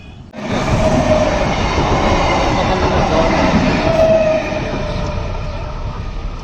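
A train passes a railway level crossing: a sudden loud rumble of wagons with faint wheel squeals holds steady, then eases slightly toward the end.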